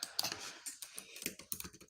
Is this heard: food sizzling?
no